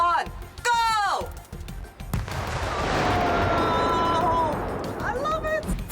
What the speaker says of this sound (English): A second explosion's coming up. It should be a more focused shrapnel hit.